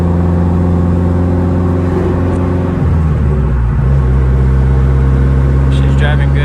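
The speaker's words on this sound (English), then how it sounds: "But I'm gonna take her for a quick drive, see how she goes." Engine of a 600-horsepower Hyundai Genesis droning loud and close as the car drives, its tone dropping partway through before settling into a low steady rumble.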